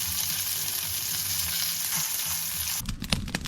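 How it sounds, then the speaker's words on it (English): A freshly caught fish sizzles in a frying pan with a loud, steady crackle of hot oil, followed by a few clattering knocks near the end. "So this is going in the frying pan."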